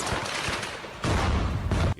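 Soldiers fire rapid bursts of gunfire from behind a building in a war zone, sharp cracks layered over a dense rumble, loud and close with a sudden heavier volley midway and no speech.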